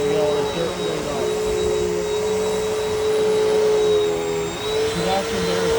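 Upright vacuum cleaner running steadily at close range, a continuous loud motor whine with a stable tonal hum and slight pitch shifts, with no speech over it.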